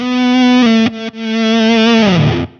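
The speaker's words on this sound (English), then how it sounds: "When the edge is on, it's just more distortion." An EHX Attack Decay guitar pedal with its edge setting on, giving a loud distorted sustained note with a rich buzzy tone, one brief break, then a swell and a slight downward pitch bend before the note cuts off.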